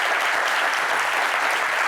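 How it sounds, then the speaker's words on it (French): Studio audience applause, a brief, dense burst of many people clapping at a steady loud level with no pause. "Applaudissez pour le charisme."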